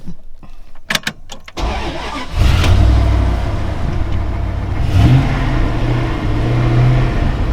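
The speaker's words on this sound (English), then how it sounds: "We got our very first truck." A newly bought truck on an off-grid property starts up after a few clicks and knocks, then runs loudly close by, its engine rising and falling as it revs over a steady idle.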